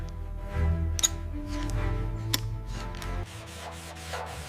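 A torque wrench tightens bolts on a restored Kawasaki 250 engine, giving a run of mechanical ratcheting clicks with a few sharper ticks over a low hum, and the hum drops away near the end.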